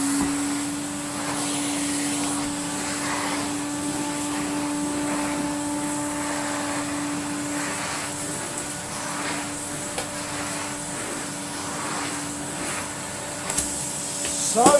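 A restored 1970s Electrolux Automatic Z345 vacuum cleaner runs with a steady high whining motor drone and airflow rush, unbroken for about fifteen seconds, close and fairly loud, with a slight clunk near the end.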